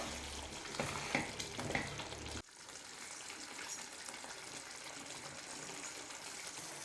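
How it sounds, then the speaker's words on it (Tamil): Fried elephant foot yam is stirred into simmering masala in a pan, with a few close scraping strokes over bubbling sizzle at first, then a quieter steady simmer. "சேனக்கிழங்கு எல்லாமே சேர்த்துக்கலாம் சேர்த்துட்டு நல்லா கலந்துக்கலாம்"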